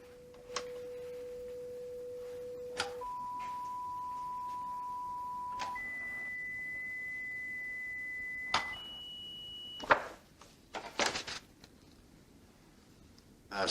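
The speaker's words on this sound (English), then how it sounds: "now I'm going to present the same tones to your right ear" Audiometer hearing test tones sound in the right ear as a series of steady pure beeps, each held a few seconds and stepping higher in pitch, followed by brief rustling and clicks.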